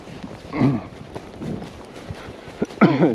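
Young colts trot outdoors, their hooves making a soft, uneven clip-clop beat at a moderate distance, with a few heavier thuds near the end.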